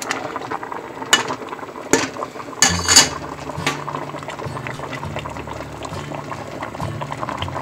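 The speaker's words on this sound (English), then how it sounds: "I've brought the potatoes and the onions to a boil" Potatoes and onions boiling on high heat in a soup pot, a steady bubbling simmer with a few clinks and knocks from utensils near the start.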